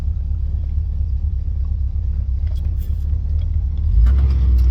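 An old car's engine rumbles steadily at close range, a deep low drone that swells louder near the end, with no talking over it.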